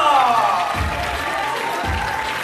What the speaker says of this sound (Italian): Accogliamola con un grosso applauso!